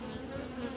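Honeybees in a divisible hive, a dense steady hum of buzzing wings, close and constant through the short stretch, with no talking.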